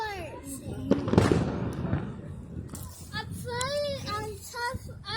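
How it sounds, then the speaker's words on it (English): Fourth of July fireworks go off nearby, a few sharp booms and crackling bursts in the first two seconds, with children and adults talking and calling out throughout and over the explosions. "I'm trying to record the fireworks."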